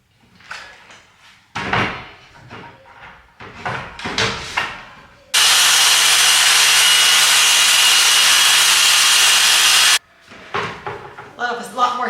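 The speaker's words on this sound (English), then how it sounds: "I do not recommend cutting plywood inside." A power saw cutting plywood indoors, one loud continuous roar of about five seconds, with talking before and after the cut.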